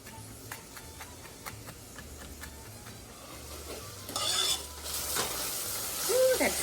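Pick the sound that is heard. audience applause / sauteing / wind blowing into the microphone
sauteing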